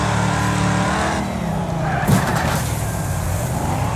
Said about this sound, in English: We are cranking that wheel and slamming on those brakes hard.